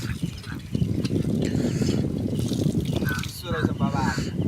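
Water gushes from a roadside hand pump (chapakal) where boys drink, a steady splashing pour running throughout with voices talking over it.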